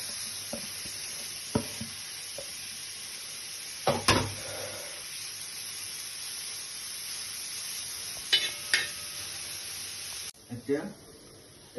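Grated carrot sizzling in a pan of hot oil while being stirred, with a constant hiss broken by sharp scraping clatters of the spoon against the pan, and a voice speaking intermittently over it.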